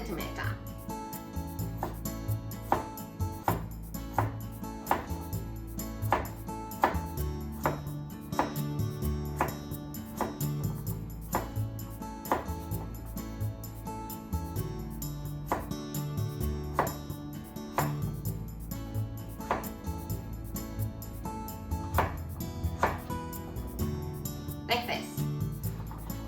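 A knife chops sushi ingredients on a cutting board, sharp repeated taps in an uneven rhythm beneath steady background music, close and moderately loud, with talking over the chopping.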